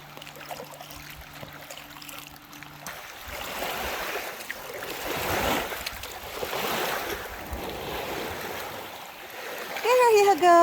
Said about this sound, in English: The water's getting just a little bit rougher because of the winds.